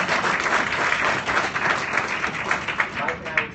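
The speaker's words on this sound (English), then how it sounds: "Let's give everybody who traveled to be here a nice round of applause." An audience at a training session applauds people who traveled to attend: dense, steady clapping from a room full of people, loud and close throughout with no pauses.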